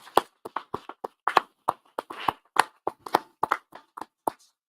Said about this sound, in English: please join me in a round of applause for the GJ staff's commitment and dedication shown for the last 10 years